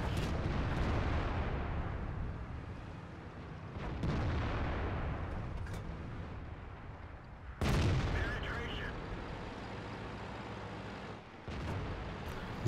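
Artillery fire in the World of Tanks video game, with heavy booming shots and explosions at about 0, 4 and 7.6 seconds, each followed by rumbling decay beneath continuous engine and battle ambience.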